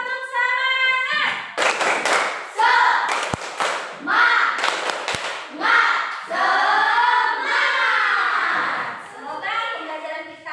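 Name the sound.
class doing rhythmic clapping cheer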